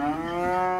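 A cow moos once at a cattle fair in Altinho, Pernambuco, a single loud, steady call lasting just under a second, close to the listener.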